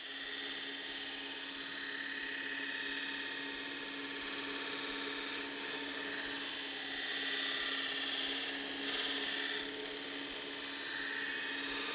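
Knife blade ground on a variable speed belt sharpening machine, a steady whining, buzzing drone with faint scraping that holds for about twelve seconds at moderate distance, without speech.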